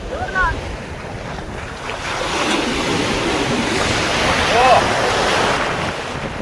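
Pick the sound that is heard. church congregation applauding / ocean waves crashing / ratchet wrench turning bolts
ocean waves crashing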